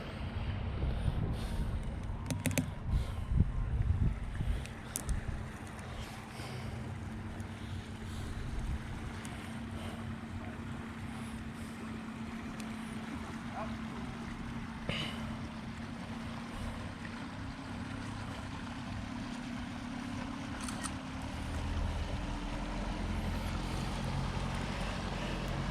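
A boat motors past on open water in the Florida Keys with a low engine rumble that rises and fades, wind buffeting the microphone, the passing steady and distant rather than close.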